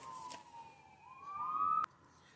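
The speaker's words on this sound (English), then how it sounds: "Sirens. Did y'all hear that? Sirens." A distant emergency siren wails faintly, its tone gliding downward and then climbing before it cuts off abruptly, heard outdoors in a desert setting with no talking.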